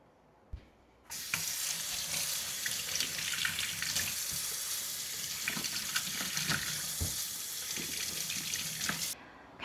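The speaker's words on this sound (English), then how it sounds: "I'm going to go ahead and start to wash my tomatoes" Tap water runs steadily into a kitchen sink while tomatoes are washed for pressure canning, a continuous broadband splash lasting several seconds with small knocks and clatters of produce, starting abruptly and stopping near the end.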